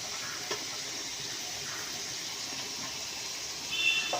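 Chopped onions fry with chicken curry in a pan, giving a steady close sizzle and hiss that holds evenly throughout, with a slight swell near the end.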